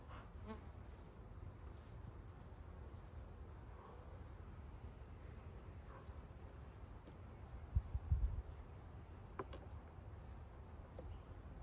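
Honeybees hum around a backyard hive, a steady low drone of many insects close by, with a brief louder burst of buzzing near the middle and no talking.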